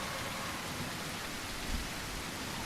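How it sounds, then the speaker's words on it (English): Heavy rain pours down steadily in a video game, a dense even hiss filling the whole stretch, with a faint low rumble near the middle and no voices. "game sound for you guys as the rain comes pouring in"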